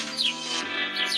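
A bird sings in a short, bright burst of high tonal warbling over a dense, steady background that fills the moment, with no voices present.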